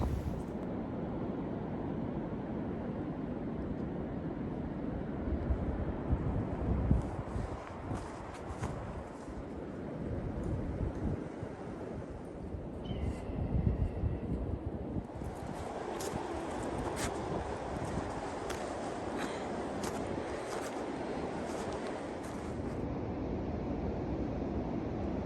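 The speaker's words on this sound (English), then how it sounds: "35 km/h winds. So we can feel the wind a little bit. We can certainly hear it." Wind roars steadily through a winter windstorm on a hike at Iroquoia, with gusts of about 35 km/h and blowing snow. The rush is broad and constant, rising and falling in gusts, with no talk.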